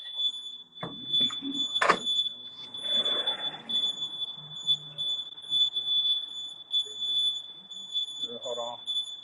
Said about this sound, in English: got a little alarm going on cooking